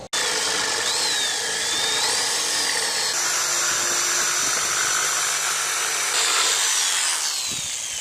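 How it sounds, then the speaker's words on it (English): A handheld jigsaw cuts through a homemade Halloween gravestone decoration, its motor whining loud and steady close by, the pitch shifting slightly as the blade works through the material with no one talking. "So get my jigsaw out."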